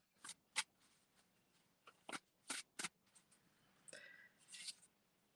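A deck of tarot cards is shuffled by hand in a quiet room, heard as several crisp, separate riffling bursts at uneven intervals, close to the microphone.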